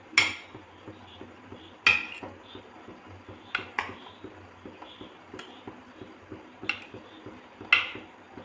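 Cut pieces of beetroot soap base are stirred in a pot as they melt, with a spoon clinking and knocking against the metal in irregular sharp taps over a soft scraping background.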